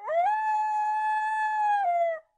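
A wolf gives a single low, drawn-out howl that swells, holds steady and then drops off, clear and alone against silence.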